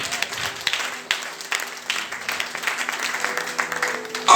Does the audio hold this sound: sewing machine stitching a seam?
no